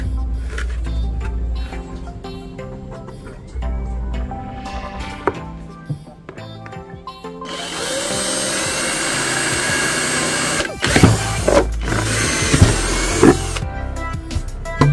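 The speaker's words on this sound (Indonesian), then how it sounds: "Kemudian untuk proses selanjutnya adalah kita lubangi pada tepat bagian tengahnya." A power drill bores a hole through the center of a used bucket, a steady whirring grind that takes over the second half with a few sharp bursts, after a stretch of background music.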